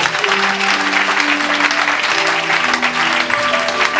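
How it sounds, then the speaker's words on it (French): A church congregation claps steadily and energetically, dense applause filling the room without pause, with a few sustained voices or tones faintly audible underneath. "Acclamez Jésus pour moi"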